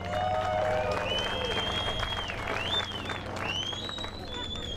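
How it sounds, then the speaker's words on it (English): A crowd at a Canadian flat track motorcycle race applauds a rider, with sustained clapping and cheering throughout and a PA announcer's voice ringing over the top. "Give a big round of applause for Cody Marintet."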